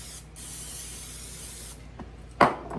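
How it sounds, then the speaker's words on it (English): Cooking spray hisses from a can onto a baking pan in a home kitchen, a steady near hiss lasting over a second, followed by a soft knock and a brief clatter. "let's get this pan sprayed"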